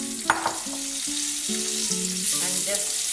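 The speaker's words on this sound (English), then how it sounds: "We need to shallow fry these potatoes" Boiled potatoes coated in turmeric and Kashmiri red chili powder shallow fry in a pan over a medium flame for dum aloo, making a steady close sizzle with a few stirring clicks. No speech.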